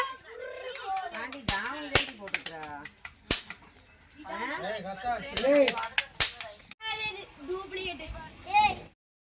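Diwali firecrackers burst during an evening home celebration, with several sharp, loud cracks going off at irregular intervals while children talk and shout throughout.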